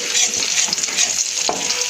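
Chopped small onion frying in hot oil for a chilli potato gravy: a close, continuous bright sizzle with faint stirring scrapes and one brief knock, no voices.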